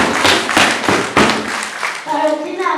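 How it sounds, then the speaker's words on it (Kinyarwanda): Applause at a school academy celebration Mass for the feast of Saint Vincent Pallotti: bursts of clapping and thumps rising and fading over about three seconds, with voices mingling underneath. "Amashyi menshi."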